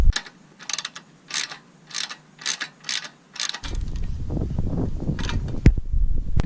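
Wrench loosening bolts on a Briggs & Stratton engine of a Sears Craftsman lawn mower, a series of crisp ratcheting clicks up close, then a rougher scraping and clattering of metal.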